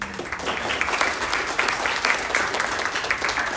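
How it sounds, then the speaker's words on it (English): An audience at a talk in Awaji, Japan gives a steady round of applause. The dense clapping is close and fills the room, with no break across the whole stretch. "So I want to give him a round of applause for making this happen for us."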